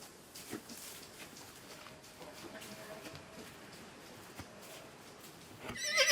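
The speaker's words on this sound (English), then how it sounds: "That's the first little neigh I've even heard." Young foal neighing faintly in a barn during weaning, a few short distant whinnies over low background rustle and hoof sounds, without talk.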